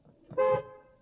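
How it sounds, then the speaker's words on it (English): A single short horn blast from a non-running Volvo with about 200,000 miles, buzzy and slightly odd in tone, sounding clearly for a fraction of a second in a quiet setting. "The horn sounds kind of weird."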